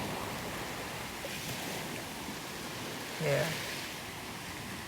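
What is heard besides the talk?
waves crashing on an early morning beach in St. James, Barbados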